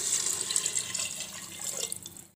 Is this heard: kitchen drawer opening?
no